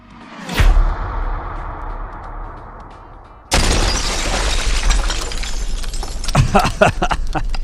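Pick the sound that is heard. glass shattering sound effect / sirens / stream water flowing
glass shattering sound effect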